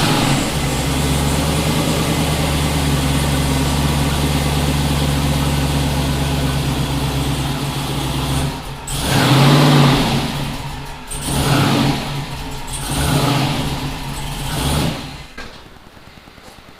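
A Chevy Nova engine with a Powerglide transmission and stock gear set idles with a steady low hum, then revs up in several short bursts before settling back down.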